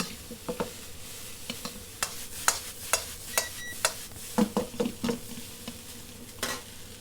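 Vegan egg fried rice stir-fried in a hot wok, a low hiss under a quick irregular series of metallic scrapes and tosses, some clustered together, close up with no talking.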